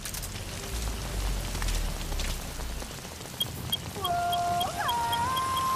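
Rain and mist hiss in the video game Metal Gear Solid V: The Phantom Pain, with a low rumble early on, then faint ticking and a rising and falling electronic tone near the end.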